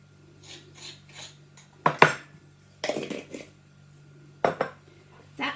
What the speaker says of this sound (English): So I'm simply going to mix my sugar and cinnamon together